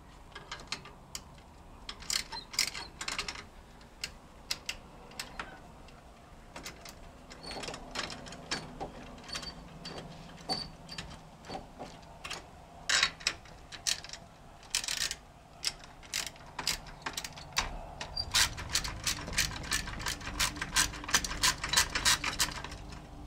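A ratchet with a long 10mm deep-reach socket turns a nut on a 2002 Honda Odyssey during transaxle removal, giving runs of rapid close metallic clicks, with steadier bursts toward the end and no talking.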